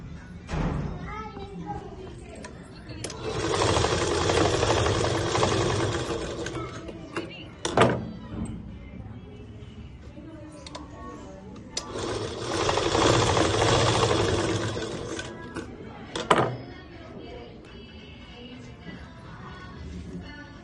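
Sewing machine stitching a school skirt in two steady bursts of fast mechanical whirring, several seconds each, close by with clicks and thumps between, while someone speaks quietly.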